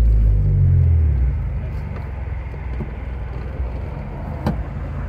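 Honda Prelude with a manual gearbox driving at night, a loud low engine rumble that drops after the first second as the shift completes, then a steady cabin drone with a faint click.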